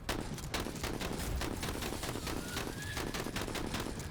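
Gunfire in the turn-based tactical game Menace: dense, rapid volleys of shots crackle continuously at a steady level throughout.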